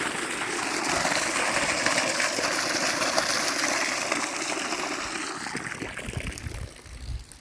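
Water gushing steadily from an irrigation pipe on a farm plot with areca palms and red soil, a broad continuous rushing flow, close and fairly loud, easing slightly near the end with no talk.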